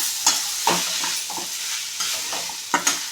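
Boiled cabbage is stirred and fried in a pan, giving a loud continuous sizzle broken by repeated scraping clacks of a spoon against the pan at an uneven rhythm.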